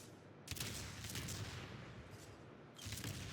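Naval gun volleys from a Des Moines cruiser in World of Warships, heavy repeated booming salvos at close range, loud bursts near the start and again at the end with rumbling between.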